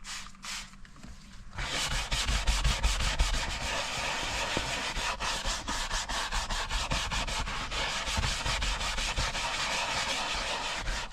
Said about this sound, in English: Interior detailer and a little scrubbing brush.